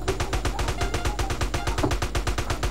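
Rapid automatic gunfire from a video game rattles steadily throughout, loud bursts in a fast even rhythm with faint talk underneath.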